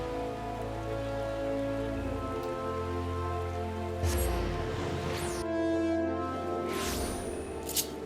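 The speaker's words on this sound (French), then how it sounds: "au lieu de ça, on a le droit à une pluie froide" Steady rain falls in a fantasy role-playing game scene, a constant soft patter of drops over sustained tonal background music, with no voices.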